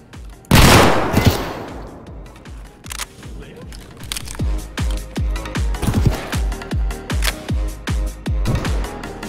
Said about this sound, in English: Why do you gotta shoot me, man?